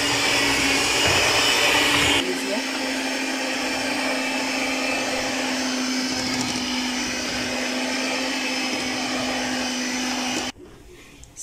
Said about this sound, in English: So I'll be using this beater.